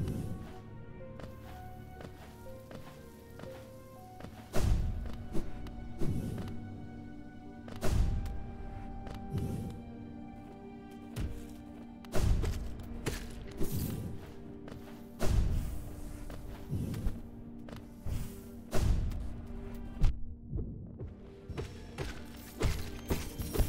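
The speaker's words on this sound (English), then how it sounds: "the glorious sound of distant explosions" Deep booming thuds land irregularly every second or two over a steady low hum, sounding muffled and distant, like far-off explosions in the video game Hollow Knight.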